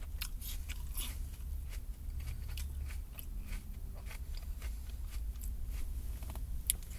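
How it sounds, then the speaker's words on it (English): A crunchy apple is chewed with a steady run of crisp bites and crunches, close and fairly quiet, over a low background hum. "You want to hear me chew this fucking thing loud?"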